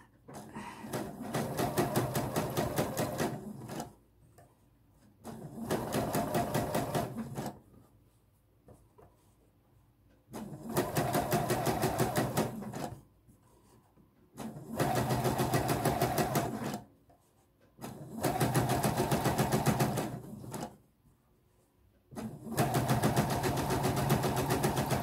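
A sewing machine stitches bias binding onto a facing in bursts of a few seconds each, with short quiet pauses between runs. The whirring is close and no one speaks.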